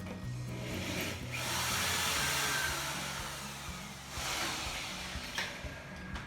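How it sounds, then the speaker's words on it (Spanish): A power drill whines through two long bursts, grinding into wood for a kitchen pantry cabinet with a rough buzzing texture, separated by a short pause. "Y vamos a taladrar."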